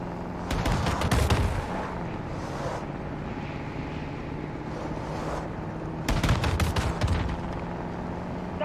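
Bursts of gunfire in the video game Modern Warfare 2 come as two loud, rapid clusters of shots, one early and one late, with a steady low rumble of combat between them. There is no talk.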